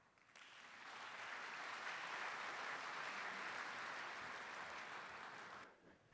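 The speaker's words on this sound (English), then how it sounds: "Can we give another round of applause for Don" A conference audience claps for a speaker on a plenary stage, the applause swelling quickly, holding steady for several seconds, then breaking off near the end.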